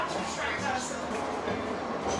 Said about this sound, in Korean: 그중에서 트램은 처음 타는데요